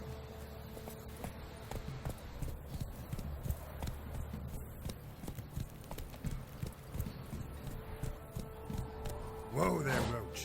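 Roach the horse galloping in The Witcher 3, a steady rapid clip-clop of hooves running throughout, close and prominent, with a brief louder burst near the end as the rider reins in.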